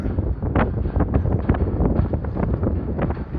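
Strong wind buffeting the microphone on the Blackpool seafront promenade, a loud, continuous low rumble with gusty surges throughout, up close and with no one speaking.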